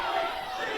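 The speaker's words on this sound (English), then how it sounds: "Pee Wee chant coming back again" A wrestling crowd in a video-game arena chants steadily and loudly, with a dense roar of many voices filling the whole short moment and no single speaker standing out.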